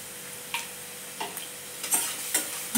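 Peanuts and coconut sautéing in a pan for kadhi khichdi, with about five distinct, separate spoon scrapes over a faint background sizzle.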